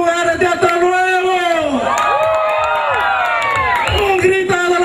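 A festive crowd of women at a community evening event in Alto Nuevo shouts and cheers loudly, whoops and high voices overlapping with scattered claps over several seconds, with an announcer's amplified voice mixed in.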